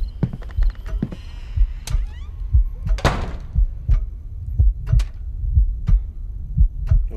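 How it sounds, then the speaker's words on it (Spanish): A heartbeat in the VR horror game Paranormal Activity: The Lost Soul, deep paired thumps repeating steadily and loudly over a low hum, with a brief noisy burst partway through. "se escuchan los latidos de mi corazón"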